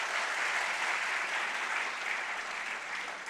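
An audience at a college computer-school induction program applauds with steady, dense clapping that fills the whole moment without a break.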